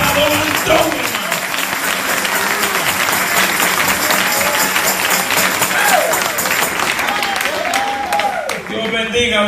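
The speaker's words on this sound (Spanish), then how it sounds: "Y aplauso más aguado" A church congregation claps in sustained applause throughout, with voices and shouts mixed in over the steady clatter.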